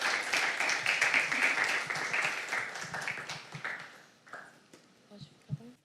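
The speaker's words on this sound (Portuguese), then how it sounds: "Vamos recebê-los com palmas aí" A crowd claps to welcome guests onto a stage, with brisk applause for about four seconds before it fades into quieter shuffling and talk.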